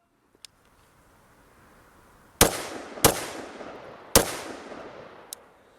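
AR-15 rifle shots at an outdoor range: three loud, sharp cracks with short echoing tails, spaced about a second apart, bracketed by a couple of fainter distant pops.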